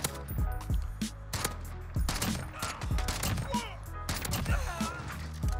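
EBR rifle fire in Call of Duty: Modern Warfare multiplayer, a string of sharp separate shots spaced roughly half a second to a second apart, fairly close, with faint game noise and some talk between them.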